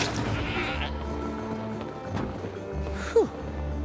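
Single short bleat from a goat in the game Trine 4, heard once near the end over a low game background.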